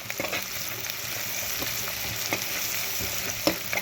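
Ginger garlic paste frying in a pan for a spicy chilli meal maker dish, a steady close sizzle with a few sharper crackles and pops near the end, no talking.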